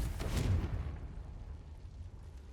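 A Confringo spell blast in Hogwarts Legacy, a single booming burst at the start that rumbles low and fades away into quiet over the next two seconds.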